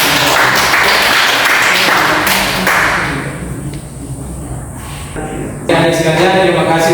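A class of students applauding, a dense burst of clapping that fades to quiet room noise midway before more noise returns near the end.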